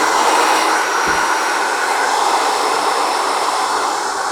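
Hair dryer blowing hard and steady close by, a loud, continuous rushing whoosh drying hair during a haircut in a barbershop, with no pauses.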